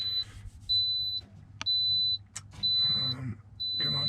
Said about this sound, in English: We have to put up with the beeping for the minute.